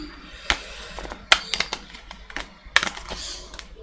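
Tarot cards are riffled and shuffled in quick clicking bursts with sharp snaps, close by and without speech.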